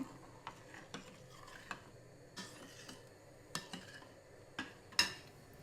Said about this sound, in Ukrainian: Перемішаю, щоб він гарно розійшовся в сиропі.